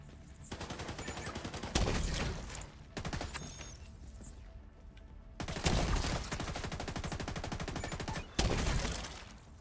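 Bursts of video game gunfire in a shooter with looting, rapid crackling volleys broken by several loud heavy blasts, dense and continuous throughout.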